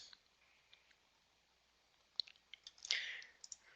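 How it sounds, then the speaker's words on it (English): Computer mouse clicks while editing a Drupal page, a few faint, sharp ticks scattered over quiet room tone, clustering near the end. "I click on edit."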